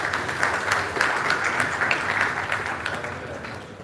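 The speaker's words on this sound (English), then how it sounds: "Please, another round of applause for him." An audience applauds at the SAIPEC 2025 energy conference, a dense, steady wash of many hands clapping that holds at an even loudness throughout, with no speech over it.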